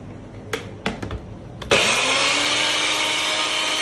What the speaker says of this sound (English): Got everything in the blender. It's grind time.